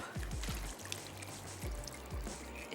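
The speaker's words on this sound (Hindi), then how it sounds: "पानी ऐड कर देते हैं" Two to two and a half cups of water pour into a cooking pot of roughly chopped ingredients for a chapli kabab, a steady close trickle with soft splashing over a few seconds and no talking.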